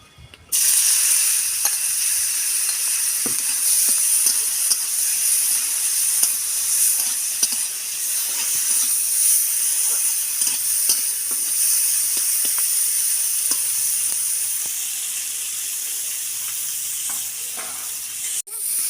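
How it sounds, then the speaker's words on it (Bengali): Prawns frying in hot oil for a jackfruit-and-prawn dish, with a loud, steady, hissing sizzle that runs almost unbroken, dotted with occasional light scrapes and taps, close up and with no talk. "চিংড়িগুলো আমি ভেজে নেবো"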